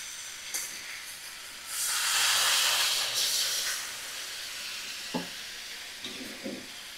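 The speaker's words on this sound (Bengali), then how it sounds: "পরিমাণ মতো জল দিয়ে দিলাম।" Water poured into a hot pan of winter vegetables, bursting into a loud hiss and sizzle that swells for about two seconds and then settles into a quieter steady fizz, with a few soft clinks near the end.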